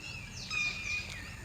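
Birds chirping in a forest at Pachmarhi in Madhya Pradesh, with thin high calls and whistles rising faintly over steady low background noise for about a second and a half.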